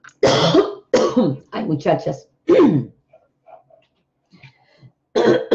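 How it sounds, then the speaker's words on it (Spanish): Several harsh, close throat clears from a hoarse throat come in short bursts, mixed with brief speech and quiet pauses. "Tengo una carraspera que me disculpan, pero la tengo."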